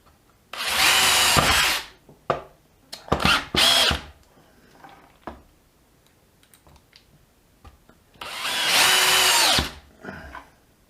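A DeWalt Atomic DCD709 cordless combi drill whirs in three bursts, a long high-pitched run, a couple of short stuttering spurts, then another sustained run, close and loud, driving screws into wood.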